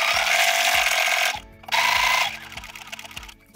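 A sewing machine stitches a quilt in a space quilting design, running in a fast, loud mechanical whir that stops briefly, restarts, then slows to a halt, with no talk.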